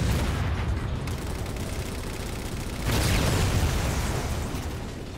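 Covenant explosions in the video game Halo 4 rumble as dense, loud bursts of booming blasts and crackling fire, with a fresh swell of explosions about halfway through.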